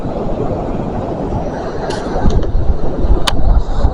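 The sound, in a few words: train passing at Dawlish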